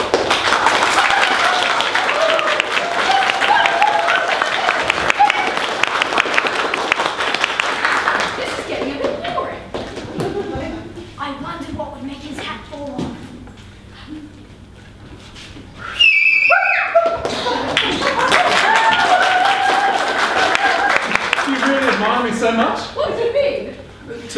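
In a staged music theatre version of The Little Prince, an audience on stage claps in bursts that start and stop. Actors talk between the rounds of applause, and a brief whistle-like tone cuts in.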